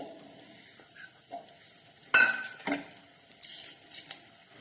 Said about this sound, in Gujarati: અત્યારે મેં એક ડુંગળીને આ રીતે મોટી મોટી કટ કરીને લીધી છે, તે આપણે આ તેલની અંદર એડ કરી દઈશું